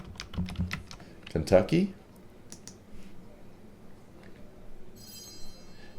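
Rapid clicks of typing on a computer keyboard, a short burst of keystrokes near the start that fades into quieter taps, with a voice speaking briefly over it.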